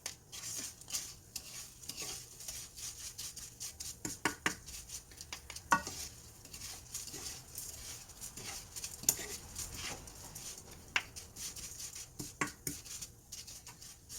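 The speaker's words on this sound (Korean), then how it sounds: "멸치도 약한 불에 볶아주셔야 됩니다" Anchovies being stir-fried on low heat in a pan for Korean myeolchi-bokkeum, with a faint, soft sizzle under repeated light scraping and clinking strokes of a spatula against the pan at an uneven pace.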